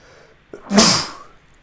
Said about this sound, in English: hold on, I think I'm going to sneeze.